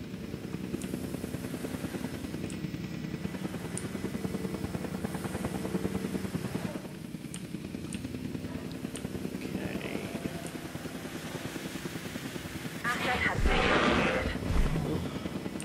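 An airlift helicopter in the Jurassic World Evolution 2 video game gives off a steady rotor drone and mechanical hum throughout. It grows louder near the end, with a voice talking over it.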